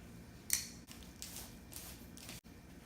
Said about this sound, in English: So let's cut this bad boy open.